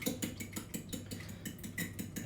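A fork briskly beats eggs and an egg yolk together in a bowl, a fast steady rhythm of light clinks against the bowl, close and clear.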